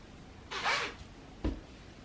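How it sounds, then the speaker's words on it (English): A sweater zipper pulled in two quick bursts, a longer close rasp followed by a short sharp zip, with quiet room tone between and no talking. "I don't know if I want to zip it up or leave it"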